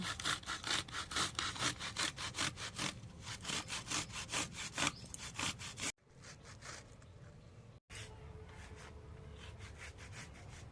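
Fresh tomatoes are rubbed by hand against a grater in quick, rhythmic rasping strokes. The strokes then turn into slower, softer, irregular scraping up close, with no talking.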